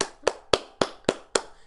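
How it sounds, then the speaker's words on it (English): A slow golf clap: six single, crisp hand claps at an even, unhurried pace, close and fairly quiet, with nothing else sounding between them. "Golf clap."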